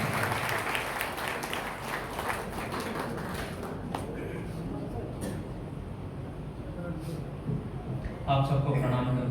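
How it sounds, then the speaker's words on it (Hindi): A large audience claps to welcome a humorous poet at a Hindi kavi sammelan in Karnal, Haryana. The dense, loud applause fills the first few seconds, then eases into a softer crowd murmur with scattered claps before a final swell. "जोरदार तालियों से स्वागत कीजिए"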